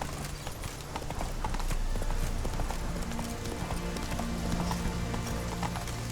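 Roach the horse galloping in The Witcher 3, hooves pounding in a steady, rapid clip-clop rhythm, loud and close, with a brief occasional whinny and a faint voice.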